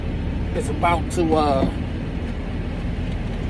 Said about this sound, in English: Forgot this truck was running.